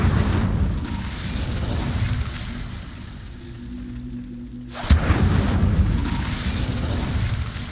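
The Incendio fire spell cast in Hogwarts Legacy gives a loud, continuous roaring rumble that dips briefly, then erupts again in a sharp burst and rolls on heavily.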